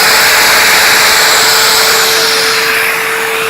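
Domino joiner cutting a mortise in wood and run past its 28 mm depth limit, giving a loud, steady, close whine with a high sustained tone above a constant motor roar.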